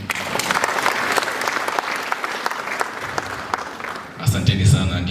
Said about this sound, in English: can you at least clap for us here?